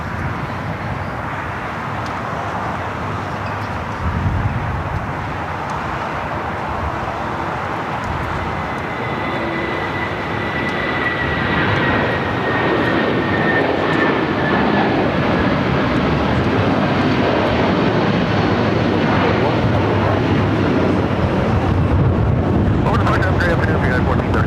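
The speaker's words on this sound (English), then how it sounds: "So Air New Zealand heading into one of the gates there on the southwest corner of Tom Bradley." An Air New Zealand airliner taxis toward a gate at Tom Bradley terminal, LAX, its steady jet engine whine and broad roar holding loud and continuous, swelling slightly toward the end.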